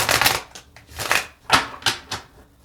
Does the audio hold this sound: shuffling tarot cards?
yes